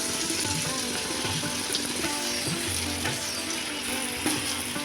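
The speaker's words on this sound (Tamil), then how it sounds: "இப்போ நம்ம கரைச்சி வச்சுருக்கிற பூந்தி மாவு இதில் ஊற்றி பூந்தி பொரிச்சு எடுத்துக்கலாம்" Boondi batter frying in hot oil gives a loud, dense, continuous sizzle with faint scraping clicks of a slotted ladle, close and with no talk over it.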